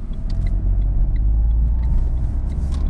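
Car slowing for a roundabout and shifting down into second gear, a close steady engine and road rumble from inside the cabin, with no talk over it.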